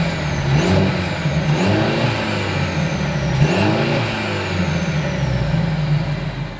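A Mercedes-Benz C300's exhaust roars loudly and continuously, the engine note rising and falling through three or four distinct revs at close range with no talking.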